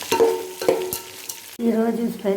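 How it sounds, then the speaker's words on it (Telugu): Onions frying for mango upma, stirred in a pan with a few sharp spoon scrapes and a steady sizzle, then a brief abrupt break before the frying resumes; close and moderately loud, no talk. "3 పెద్ద ఉల్లిపాయలు వేసుకొని ఫ్రై చేసుకుంటాను"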